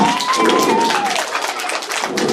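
Clapping from an audience at a madrasa prize and education event as people are welcomed, mixed with a voice and a sustained tone through the first half, the claps continuing as a dense patter.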